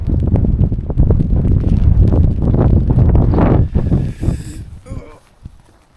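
Gusting wind buffets the microphone on a rainy hillside during a solo hike, a loud continuous low roar that eases off toward the end, with a voice speaking over it.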